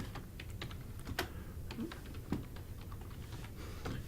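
Keys on a computer keyboard are typed in an irregular run of light clicks with a few sharper strokes, close by and fairly quiet, with no voices.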